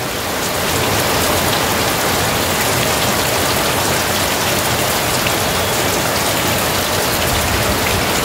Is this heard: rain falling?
yes